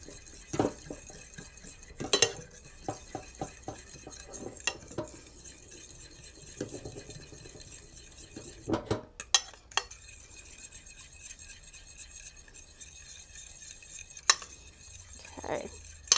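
Fork stirring store-bought ground mustard in a bowl for pretzels, with scattered clinks and scrapes of metal against the dish, some sharper taps standing out over quiet, intermittent mixing.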